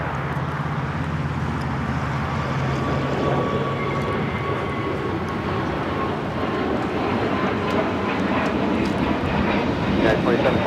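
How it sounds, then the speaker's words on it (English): A United Airlines Airbus A321neo takes off from LAX bound for Denver, giving a steady, loud jet engine roar with a broad rushing rumble that holds throughout, while speech and a radio voice run faintly in the background. "This is United Airlines 2728 taking off to Denver on the A321neo."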